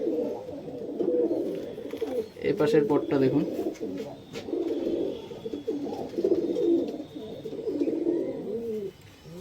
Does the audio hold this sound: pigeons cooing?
yes